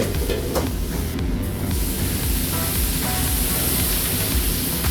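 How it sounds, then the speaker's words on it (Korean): Vegetables stir-frying in hot oil in a wok for Korean jjamppong, a steady loud sizzle with stirring scrapes running throughout, no voices. "채소만 살짝 더 기름에 튀기듯이 눌게 볶는 것만 해도 맛이 달라질 거예요."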